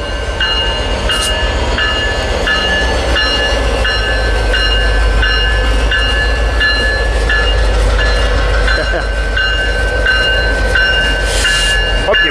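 Freight train locomotives switching cars in a rail yard at Commerce, a loud continuous rumble of engines and rolling wagons with rhythmic clicks and clanks, heard up close and alone.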